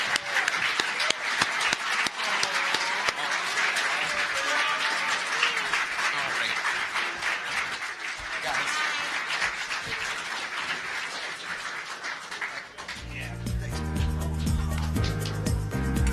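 Convention audience applauding at length in a large hall, a dense steady wash of clapping, until about 13 seconds when music takes over.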